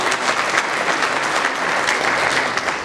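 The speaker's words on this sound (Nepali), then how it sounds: "एकचोटि सर र ताली बजाउनु होला तपाईँहरू" An audience claps together in a dense, steady burst of applause that stays loud and close for about three seconds.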